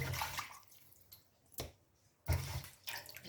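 Raw chicken being washed in a kitchen sink, with bursts of running, splashing water and a couple of louder sloshing pours between quieter dripping moments, close by and with no talk.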